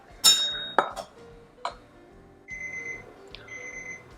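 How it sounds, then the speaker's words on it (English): Dishes clink a few times, then an electronic kitchen timer beeps in two short, high-pitched bursts nearby. "There's the timer."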